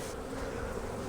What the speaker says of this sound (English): It's quite a few bees kind of in a little cluster right there